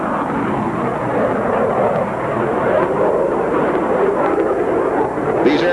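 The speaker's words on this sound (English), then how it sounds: "the Skyhawk is the airplane flown by Top Gun instructor callsign Jester." Jet roar from an A-4 Skyhawk and F-5 Tiger flying at an air show, a loud, sustained broadband rumble that stays full and steady for several seconds with no talk over it.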